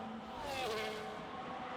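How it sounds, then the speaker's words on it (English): A faint, thin squeal of race car brakes into turn 12 at Las Vegas rises and falls over a steady roar of distant racing engines, brief and blended into the track noise. "I heard a lot of squealing brakes there as they went into turn 12."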